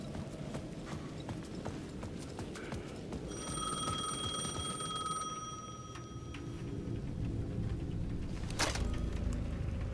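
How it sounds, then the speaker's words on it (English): A payphone at the edge of a plaza rings in Alan Wake 2, a bright trilling bell that sounds for a few seconds over a murky, rumbling ambience with scattered clacks. "The payphone at the edge of the plaza was ringing again."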